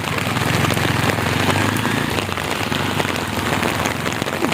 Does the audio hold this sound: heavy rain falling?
yes